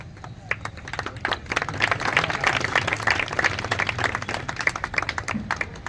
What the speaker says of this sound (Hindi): जोरदार तालियां शेफाली जंगेला जी और रूपाली जी के लिए